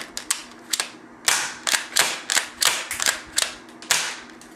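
A toy spring pistol firing repeatedly, a dozen or so sharp close snapping clicks in an irregular rhythm, loud and clear with no talking.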